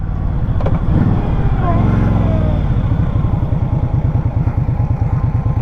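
A 2020 Indian Scout Sixty Bobber motorcycle being ridden on the road, its engine a loud, steady pulsing rumble that rises in pitch and then settles through gear changes.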